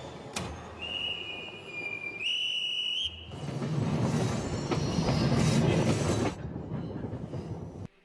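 Train sound from a Chanel commercial: a loud, steady rumble and clatter of rolling railcars with a bright whistle-like tone early on, swelling in the middle before easing off, with no talk.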